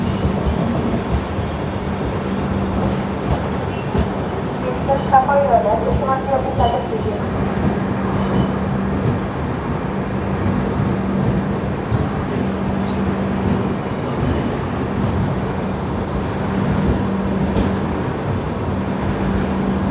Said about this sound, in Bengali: অন্যদিকে ট্রেন ঢুকছে খড়গপুর স্টেশন